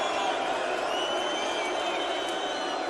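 A darts crowd in an arena in Belfast keeps up a steady, distant roar throughout, with a faint whoop rising briefly near the end.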